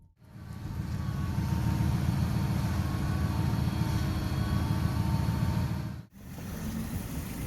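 A Ford Explorer engine running in drive without moving, a steady low rumbling drone heard close for several seconds, briefly dropping out before resuming.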